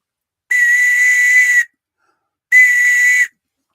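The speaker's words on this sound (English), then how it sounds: "Blow your police whistle to show, you just want me to prove that it works" Two loud, shrill police whistle blasts, the first about a second long and the second shorter, separated by silence, with no talking.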